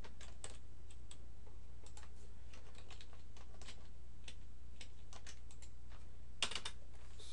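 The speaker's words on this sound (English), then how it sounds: "So let's type another paragraph." Steady soft clicking of keys on a computer keyboard, a continuous run of quiet taps with uneven rhythm over a low background hum, ending with one slightly louder keystroke.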